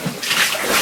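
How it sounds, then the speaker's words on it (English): Water pours and splashes steadily from around a bend inside an old mine with straining timbers, a continuous close rushing wash. "the water is falling from around the bend there"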